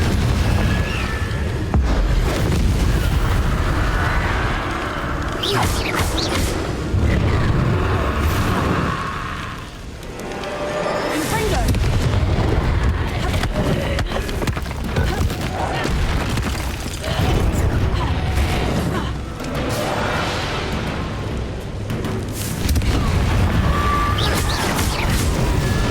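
Confringo spell blasts in Hogwarts Legacy, with loud, heavy booms and crashing bursts following one another almost continuously, broken only by a short lull partway through.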